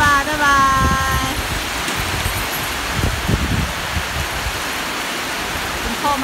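Heavy rain pours down steadily, a dense broadband hiss with splashing water flowing nearby, loud and continuous, with a brief high tonal sound at the start.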